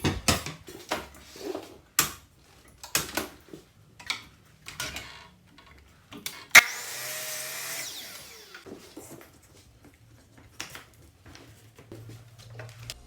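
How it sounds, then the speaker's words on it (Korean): Hand sawing through the end of a wooden frame piece at a 45-degree angle: a run of rhythmic rasping strokes, then a sharp knock and a brief whining burst before quieter scraping, close up with no talking. "이젠 프레임 목재의 끝을 45도로 잘라줍니다."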